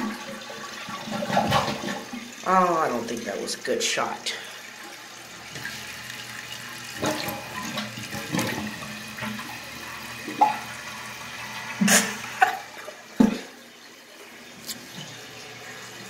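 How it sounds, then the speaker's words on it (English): A 1989 American Standard Cadet toilet flushing, a close, loud rush of water swirling and draining, then refilling with hissing and gurgles, with someone speaking briefly over it. "I'll give this thing a last flush for the goodbye three, two, one."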